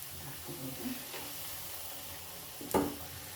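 Masala pooris frying in hot oil, a soft continuous sizzle with small bubbling bursts and a louder surge of hissing near the end as dough is pressed into the oil, fairly quiet and close.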